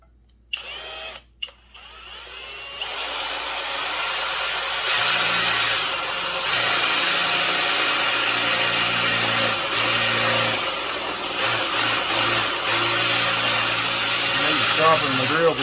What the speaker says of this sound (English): We're going to see if we can drill a hole in it.